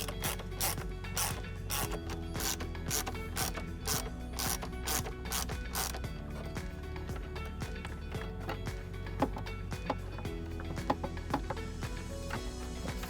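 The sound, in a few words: ratchet reinstalling two 8mm bolts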